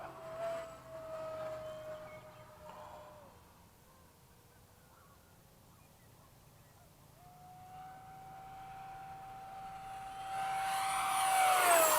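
A Freewing 70mm electric ducted-fan F-35 RC model jet on an evening flight gives off a thin, distant turbine-like whine that fades, then swells louder as it passes near at the end; faint voices are heard.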